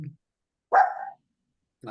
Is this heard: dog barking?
yes